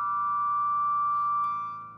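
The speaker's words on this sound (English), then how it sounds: "This unit here is electromagnetically making the strings vibrate." A Reverend Reeves Gabrels RG-SUS electric guitar rings with its open strings driven by an electromagnetic sustainer, giving a steady pure sustained tone that holds evenly and then fades a little at the end.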